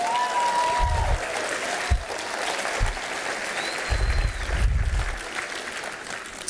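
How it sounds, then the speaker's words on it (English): An audience at a lecture on oaks and native plants applauds, a moderately quiet wash of clapping that swells and fades, with a few low thumps underneath. "I love it when people clap for the oaks."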